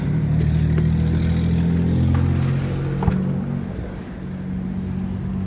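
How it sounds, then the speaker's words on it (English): An Onan 5500-watt RV generator on a 2024 Thor Motor Coach 37DS runs steadily with a loud, constant low hum and no speech. "Right here's our Onan 5500 watt generator."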